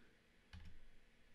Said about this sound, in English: I like to type my values in